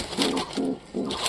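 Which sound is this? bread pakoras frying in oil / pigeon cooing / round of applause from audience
pigeon cooing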